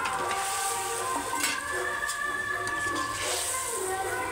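Rohu fish pieces going into a boiling Bengali-style curry gravy, with a steady bubbling simmer and soft frying-like hiss throughout and a few light clinks, fairly close and continuous.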